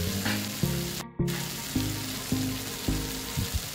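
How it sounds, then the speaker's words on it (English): Tomatoes fry for a mutton curry, sizzling steadily in hot oil up close, broken by regular clanks of a spoon stirring against the pan. "Let's fry these tomatoes until they soften."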